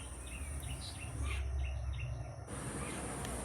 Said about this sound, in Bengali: এই পাখিগুলো এসে প্রতিদিন নকুলদানাগুলো খেয়ে যায়